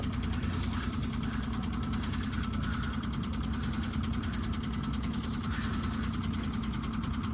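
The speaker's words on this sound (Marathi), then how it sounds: "ही आपली आमच्या तिघांच्या गाड्या इथं चालू" Bharat Benz and Leyland dumper trucks idling together, a steady low diesel rumble with a faint rhythmic knock, plus two brief hissing bursts, likely air brakes, with no talking.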